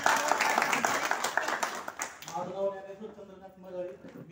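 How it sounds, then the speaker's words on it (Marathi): An audience at a school gathering bursts into loud, dense applause for a couple of seconds; the clapping fades out as a single voice begins speaking clearly over the dying claps. "एकदा जोरदार टाळ्या वाजवा मरळेसाठी."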